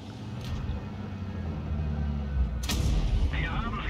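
A tank cannon shot in World of Tanks Blitz, with a Leopard 1 in the match, bursts out loudly as a sharp blast over a steady low battle rumble, followed by a brief rattling mechanical tail.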